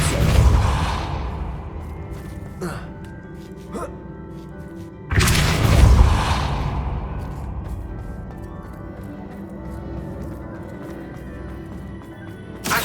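Depulso, a force-push spell cast in Hogwarts Legacy: two loud whooshing magical bursts several seconds apart, each a sudden broad blast that fades out, over a low ambient game background.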